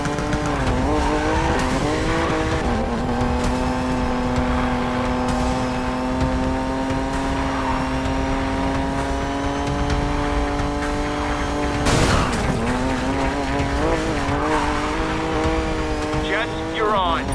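A car in the Need for Speed video game speeds along, its engine whine steadily climbing in pitch with a sharp burst of tire squeal near the end, loud and continuous.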